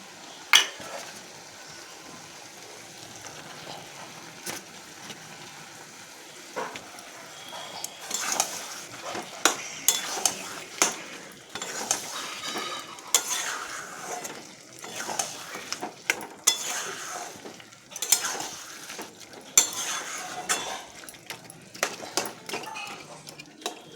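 Chicken with turmeric, salt, green chilli, tomato and garam masala sautéing in a pan, a steady sizzle broken by repeated scraping and clinking of a spatula against metal, loud and close with no talk.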